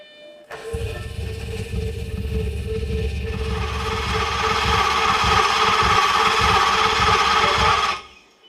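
A fire-damaged Lamborghini Gallardo LP520 under repair cranks and fires up, its engine settling into a loud, rough, steady running roar with a dense rumbling low end that holds for several seconds before cutting off.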